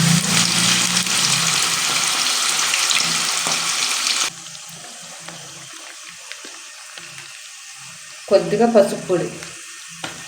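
Goat udder pieces frying in hot oil in a home kitchen, a loud, steady broadband sizzle for about four seconds that drops to a faint crackle, with a voice speaking near the end.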